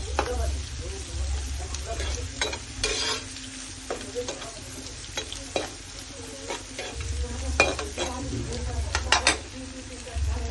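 A small chopped onion fries in a pan for a goat tripe curry, its steady sizzle broken by frequent scraping stirs and light clinks of a spoon against the pan, with a low hum underneath throughout.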